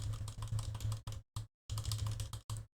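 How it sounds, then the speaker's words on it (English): Loud computer keyboard typing in quick clattering bursts of keystrokes, broken by two short pauses, close and alone with no talk. "you guys are gonna hear a lot of loud keyboard sounds"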